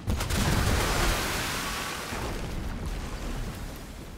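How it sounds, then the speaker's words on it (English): Naval cannon fire in the pirate video game Skull and Bones: a loud, dense burst of booming blasts at the start that thins into a rumbling, surf-like roar trailing off over several seconds. "Well, shoot it with cannons."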